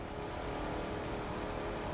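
Motorboat engine in the racing game The Crew 2, a steady loud drone running throughout without pause.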